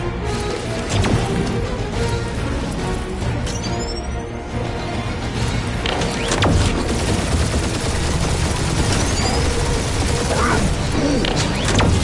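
Sustained gunfire barrage in the video game Guardians of the Galaxy, dense rapid shots and impacts with mechanical clatter and crashes, loud and continuous throughout.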